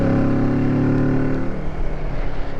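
A Kawasaki Z650 motorcycle pulls away in third gear, its engine note loud and close, rising then easing into a rougher drone.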